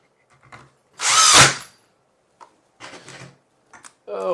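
A battery power drill whirs in one loud burst of about half a second while a plant caddy is assembled, followed by quieter clicks and handling noises.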